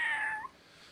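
A person imitates a cat's meow with one short, nasal, sickly-sounding mew that falls off in under half a second, close and fairly quiet.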